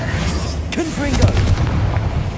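Confringo blasting spell detonating in Hogwarts Legacy, a loud booming explosion followed by rumbling debris, with a voice speaking over the blast.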